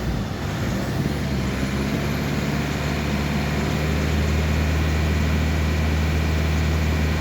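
A BMW E46 320d diesel engine rumbles loud and close as it is revved, a dense, steady drone that swells slightly in the second half with no voices.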